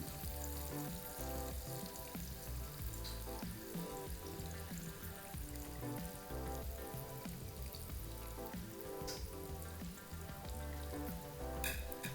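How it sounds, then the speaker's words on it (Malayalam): Pieces of chicken frying in oil crackle and sizzle faintly and steadily under continuous background music, with a brief louder spatter near the end. "ചിക്കനൊക്കെ ഫ്രൈ ആയിട്ട് വന്നിട്ടുണ്ട്."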